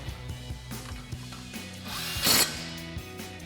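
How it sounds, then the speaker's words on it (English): A 10 mm socket tightens a bolt on a 4WD F-150 front suspension during a leveling kit install, giving close ratcheting and clicking with a brief louder burst of metal noise midway. "reinstall that bolt, and we'll tighten it down with our 10 mil socket"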